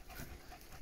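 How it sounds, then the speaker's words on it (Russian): A malamute dog pants quietly in short, rapid breaths, faint and close, with a soft background hiss. "вот этот маламут сегодня адаптируется у нас"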